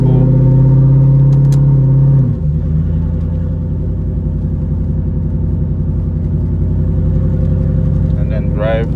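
A Ford Mustang GT 4.6 2V with stage 1 cams idles with a loud, choppy rumble that dips and shifts as the automatic transmission is moved into another gear, then settles back into a lumpy, steady idle.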